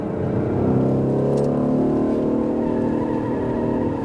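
An Aston Martin Vantage F1 on a Speed Vegas track accelerating under throttle, its engine note rising steadily and loud, close and continuous with no talk over it.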